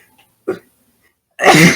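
A single short, loud burst like a sneeze or cough, preceded by a brief faint vocal sound and otherwise quiet.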